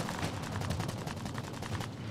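Rapid gunfire from the video game Call of Duty: Warzone, a dense rattling volley of shots at a steady pace, moderately loud, ending with a sharp louder crack.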